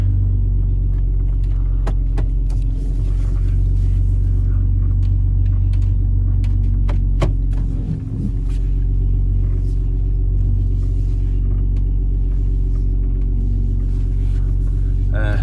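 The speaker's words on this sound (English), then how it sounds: "I'm gonna have to do a multi-point fucking turn here." Truck engine idling and rumbling low and steady while the driver works through a multi-point turn, with a brief dip partway through and someone talking occasionally over it.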